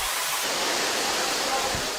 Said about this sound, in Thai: เห็นชัดว่าเป็นน้ำตก กลางทะเลทรายแบบนี้อัศจรรย์มากมาก